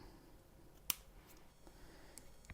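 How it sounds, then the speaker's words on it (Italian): Scissors snip through orchid roots during cleanup for growing the plant in water, one sharp close click followed by a few fainter snips in quiet surroundings. "Prendiamo sempre le nostre forbici e tagliamo in questo modo."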